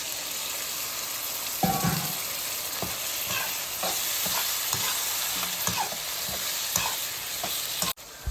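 Gongura galaboti drops into a hot pan and fries with a loud, continuous sizzle, accompanied by a thump as it lands and repeated clattering stirs.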